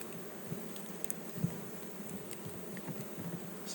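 Honey bees buzz softly and continuously during installation of a new package into a hive, a faint steady hum with occasional closer passes.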